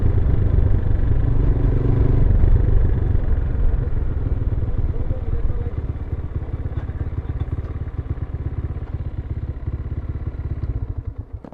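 A Loncin GP165 motorcycle engine runs continuously at close range, a low rumbling drone that eases slightly as the ride goes on, with wind noise and no talking.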